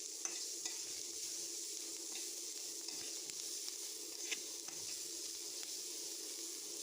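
Bitter gourd and garlic sizzle quietly as they are stir-fried in a pan until reddish, with a soft continuous crackle and occasional scraping stirs, no voices.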